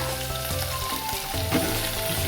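Bitter gourd and tomato sauté in a hot pan with a steady, close sizzle, broken by a few scraping stirs, in a home kitchen cooking a bitter gourd gravy.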